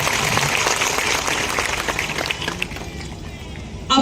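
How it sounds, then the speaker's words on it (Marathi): A crowd at an outdoor political rally in Pachora claps in a dense, sustained burst of applause that fades slightly before a short loud spike at the end. "त्यांच्यासाठी जोरदार टाळ्या झाल्या पाहिजे"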